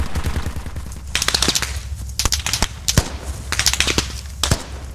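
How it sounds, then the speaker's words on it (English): Automatic gunfire from the video game Squad, played through an EPOS Sennheiser GSP 670 wireless gaming headset: loud rapid bursts of shots in several clusters with sharp cracks, over a steady low rumble. "just enough sparkle to hear that every bullet slicing through air in squad"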